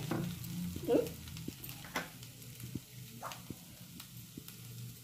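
Grated coconut frying with fenugreek leaves in a pan, a faint low sizzle with occasional soft stirring scrapes and a few light knocks.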